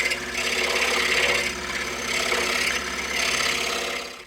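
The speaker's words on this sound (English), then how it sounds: "So we're just going to clean up that little part there, just using the side of the blade, the kerf, as a file kind of thing," A running scroll saw hums steadily while the side of its blade files and rubs at the edge of a wooden heart frame, giving a continuous close buzzing rasp with slight swells.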